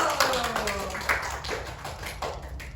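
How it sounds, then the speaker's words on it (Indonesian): A few people in a classroom clap briefly in a loose, sparse patter, with a voice speaking at the start. "Wow, tepuk tangan dulu."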